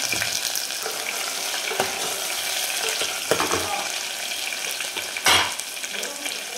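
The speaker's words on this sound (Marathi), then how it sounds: "एक मीडियम साईजचा कांदा आपण बारीक कट करून घेतलेला आहे तो टाकतो." Finely chopped medium-sized onion dropped into hot oil and frying with a continuous loud sizzle, with a few clinks of stirring, and no talking.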